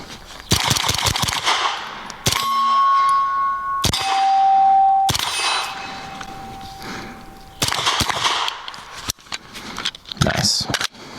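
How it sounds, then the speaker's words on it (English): Rifle fitted with a KynShot buffer system fires in rapid bursts outdoors, loud sharp repeated reports with ringing steel target pings between strings of shots, and voices speaking in the pauses. "I'm gonna shoot these just a little bit more and just get a little bit more feel for it"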